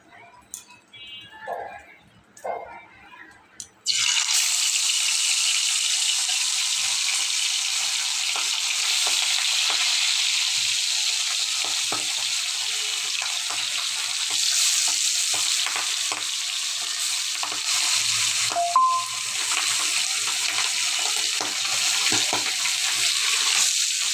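After a few seconds of quiet with a brief voice, fish drops into hot oil and a loud, dense, continuous frying sizzle takes over, crackling steadily to the end.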